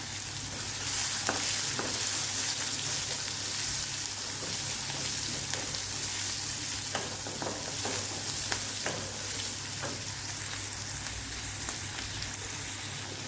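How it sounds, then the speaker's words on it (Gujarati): Curry leaves sizzle and crackle in hot oil in a pan while semolina upma is being made, a steady, close frying hiss with scattered sharp pops and spatters throughout and no voices. "અને થોડીક વાર માટે સડવા દઈશું અને થોડાક મીઠા લીમડાના પાન ઉમેરી દઈશું"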